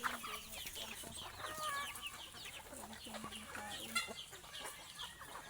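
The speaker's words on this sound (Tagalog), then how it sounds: "Papakain ng manok." Several chickens cluck and chatter close by during feeding, with short repeated calls overlapping in a busy, continuous flock sound.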